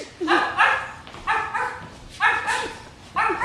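A dog barks in repeated double yaps with a musical, pitched quality, four pairs spaced evenly like a rhythmic beat.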